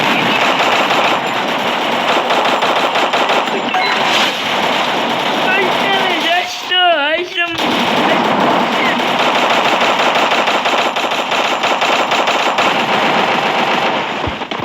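Rapid automatic gunfire from the battle-royale game Free Fire, loud and dense bursts running almost the whole time with a brief break, heavy clatter throughout and a short squealing effect in the middle.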